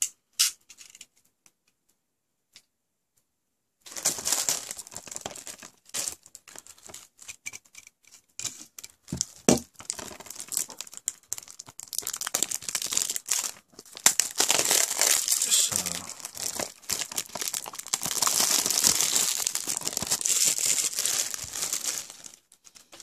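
Plastic wrap being torn and crumpled off a Call of Duty: Infinite Warfare PC Legacy Edition game package: after a few seconds of silence, dense close crinkling and ripping bursts run on and off, growing louder and busier toward the end.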